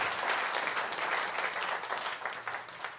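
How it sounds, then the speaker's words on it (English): Sustained audience applause at an award event, dense and even clapping that thins slightly toward the end, with no talk over it. "I'll let you clap."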